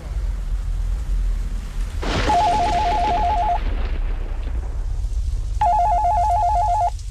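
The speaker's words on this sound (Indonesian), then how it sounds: "tiba-tiba telepon di ruanganku ini tiba-tiba berbunyi memecah kesunyian" An office telephone rings in two electronic bursts, a warbling tone sounding once and then again after a pause, loud over a low background rumble with no talking.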